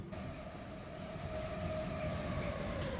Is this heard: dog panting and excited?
no